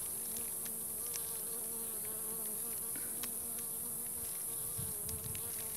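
Honeybees buzzing steadily around a weak hive being treated for varroa, a dense continuous drone of many insects close by with occasional individual bees passing near, no voices.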